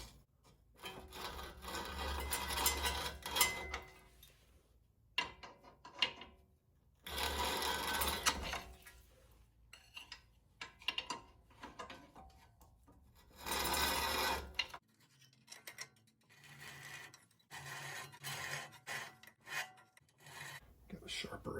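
A power tool grinds rust off a car brake in loud rasping bursts several seconds long, broken by brief pauses and quieter scraping passes, close and harsh.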